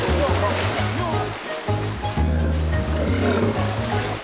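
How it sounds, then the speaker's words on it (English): Loud, continuous splashing and churning water as baby elephants play, with deep rumbling underneath and voices mixed in. "There's a lot of splashing and fun."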